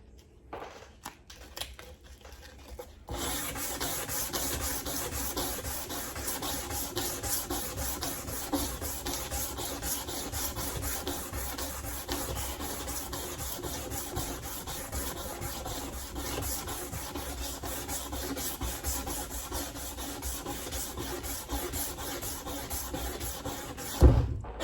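Steady back-and-forth hand sanding on a machete blade with 180-grit abrasive, a continuous close scratchy rasping that runs evenly for about twenty seconds after a few brief strokes at the start, with no talking.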